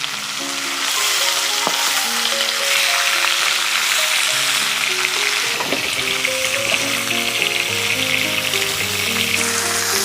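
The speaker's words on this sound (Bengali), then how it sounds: "বন্ধুরা, এই মাছটা খুব কড়া করে ভেজে নিতে হবে," Sea tangra fish deep-frying in oil until crisp, with a loud, continuous crackling sizzle that lasts throughout over faint background music.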